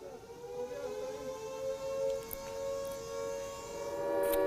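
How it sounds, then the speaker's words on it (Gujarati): An emergency civil defense warning siren sounds over Punjab, a steady sustained wail holding a level tone, fairly distant and alone without talk. "ચેતવણીના સાયરન વગાડાયા છે"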